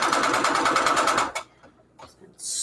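Sewing machine running steadily and loud with a rapid even stitching rhythm for over a second, then cutting out to near quiet with a few small clicks before a hissy noise rises at the end.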